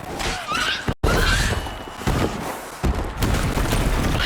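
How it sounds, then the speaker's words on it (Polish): Bombs detonate during an arena fight in the video game The Witcher 3, a loud, dense barrage of blasts and crashes with sharp impacts and dense noise amid chaotic combat sounds. "Poczekajcie, muszę wybrać petardy."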